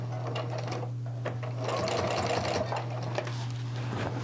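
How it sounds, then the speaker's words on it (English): Short stitches forward and then back from a nearby sewing machine securing quilt binding, a run of brief whirring bursts with small pauses between them. "I'm going to go ahead and sew a couple of stitches forward and back"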